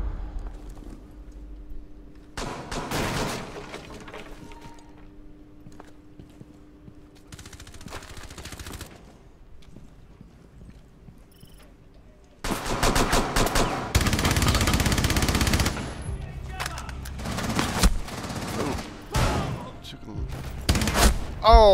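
Gunfire in a Rainbow Six Siege match, with a sparse opening stretch of shots before a long, loud burst of sustained automatic fire and heavy rapid bursts late on, while a voice talks intermittently over the action.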